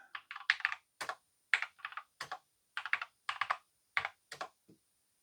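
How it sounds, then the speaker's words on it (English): Keys on a Blingboard64 keyboard are tapped in quick, irregular clusters of crisp clicks, close and clear with silence between bursts. "The keys feel quite nice to type on."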